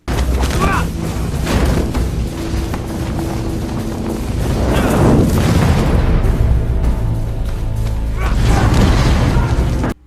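A loud, dense battle scene from the live-action Avatar: The Last Airbender film as Fire Nation soldiers attack, with booming crashes, rumbling impacts and whooshes of firebending. A voice talks over parts of the action.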